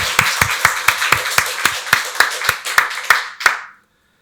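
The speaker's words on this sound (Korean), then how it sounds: "하나님께 박수로 영광 돌리겠습니다." A church congregation at a Korean Sunday worship service claps together in a steady unison rhythm, about a dozen crisp, close claps that stop abruptly after a few seconds.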